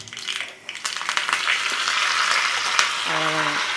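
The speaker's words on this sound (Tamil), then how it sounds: "எண்ணெய் காஞ்சிடுச்சு, கடுகு போடுறேன்" Hot oil crackles and sputters continuously with rapid popping, loud and close, as mustard seeds spit in the pan; a brief tonal beep near the end.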